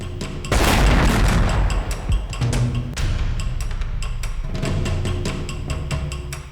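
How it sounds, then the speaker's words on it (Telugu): A loud explosion blast in a crime TV drama, a heavy booming burst that rolls into a long rumbling tail with scattered crackling debris and clatter continuing for several seconds. "ఏంటా బ్లాస్ట్?"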